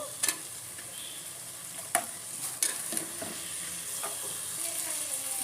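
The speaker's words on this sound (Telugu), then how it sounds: "అల్లం వెల్లుల్లి పేస్ట్ పచ్చివాసన పోయేదాకా వేయించినాక టమాటా ముక్కలు కూడా వేసేస్తాము" Tomato pieces fry with ginger garlic paste in a pan for vegetable biryani, producing a faint, steady sizzle marked by a few sharp clinks and scrapes of a stirring spoon.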